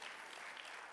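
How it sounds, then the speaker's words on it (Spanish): A church congregation applauds, a faint, even wash of clapping that fills the whole brief moment. "Démosle un aplauso al Señor por la vida de cada uno de ellos."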